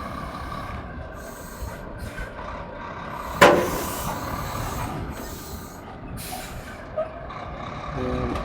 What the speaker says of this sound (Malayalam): അപ്പോൾ അത് റിവേഴ്സ് അങ്ങോട്ട് അടുപ്പിക്കാൻ പോവുകയാണ്.